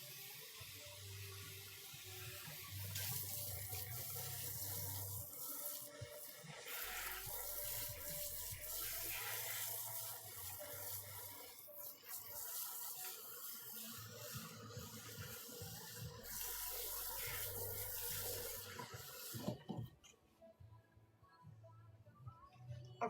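Water runs steadily into a washing machine drum loaded with laundry and detergent powder. It makes a continuous, fairly loud rushing and splashing that stops abruptly near the end.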